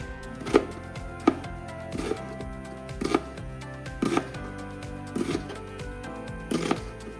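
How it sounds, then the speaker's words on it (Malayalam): Onions being chopped on a board in a home kitchen: a series of sharp, separate knife thuds roughly once a second, near and fairly loud, with no talking. "ആദ്യം എന്താ സവാള അരിയണം അതാണ് ആദ്യത്തെ പരിപാടി"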